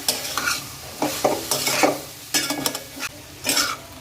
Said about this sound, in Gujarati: હવે આને સરસ આપણે મિક્સ કરી લેવાનું છે